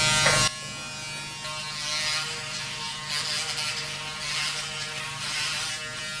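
A Braun Series 5 electric shaver buzzes steadily as it runs over the back of a shaved head, after a brief louder burst at the start. The motor hum stays close and continuous, with no voices.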